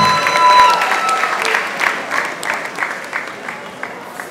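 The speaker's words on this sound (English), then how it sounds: "Kenny Black, please a big round of applause for him one more time." A comedy-show crowd in Lagos gives comedian Kenny Blaq a big round of applause, a loud, sustained wash of clapping that gradually thins out toward the end.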